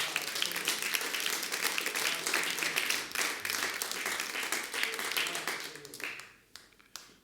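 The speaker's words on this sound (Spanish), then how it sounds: "le damos un aplauso a Dios por eso." A church congregation claps together in sustained, dense applause that carries on for several seconds, then thins and fades out near the end.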